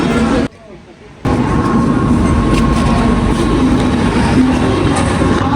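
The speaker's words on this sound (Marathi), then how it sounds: "हे चल आले ट्रेन" Train pulling into Seawoods station, a loud continuous roar of rail wheels and carriages rumbling close, after a brief dip at the start, with a busy crowded platform feel.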